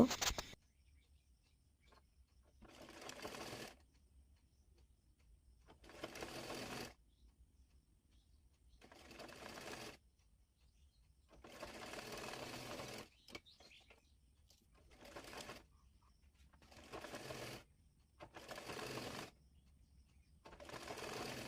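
A sewing machine stitches a hijab cap in repeated short bursts of fast mechanical chatter, each a second or so long, separated by quiet pauses; close and clear, with no talking.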